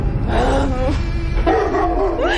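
In a Russian village, a nearby dog gives several short, rising yips and whining cries over steady low background rumble.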